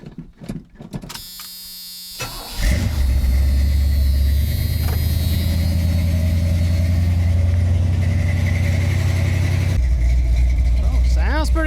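A square body truck fitted with a new budget exhaust and turn downs starts after a few clicks, then settles into a loud, steady, deep engine rumble that runs nearly to the end, with brief voices at the start.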